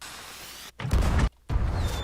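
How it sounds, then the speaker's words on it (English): Monkey firework launched in the pirate video game Sea of Thieves, two loud booming bursts with a short gap between them, each a broad rumbling blast that cuts off abruptly. "I will load up this monkey firework and give off a celebration to show that we did it."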